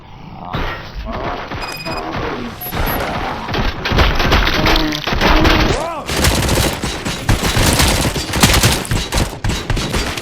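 Rapid gunfire rattles through a firefight in the video game RoboCop: Rogue City, with dense loud bursts, thuds and impacts stacking over each other across the whole stretch, and a voice briefly heard among the shots.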